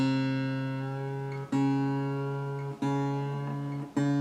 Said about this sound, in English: every time you tune a guitar fresh out of the box